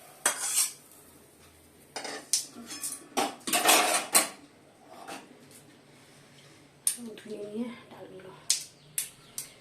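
Fried lentils tipped from a pan into a bowl, a series of close metallic scrapes and clinks of a utensil against cookware with quiet gaps between them.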